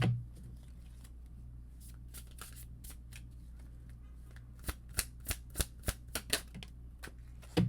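Tarot cards are shuffled close by, a rapid run of crisp flicking riffles with sharp card snaps, quiet at first and building to a cluster of distinct slaps near the end.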